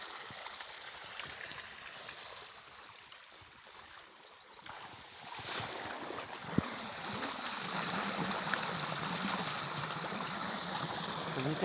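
Water runs through a field irrigation channel as a soft, steady broadband trickle and wash, growing slightly fuller and louder midway, with no talk.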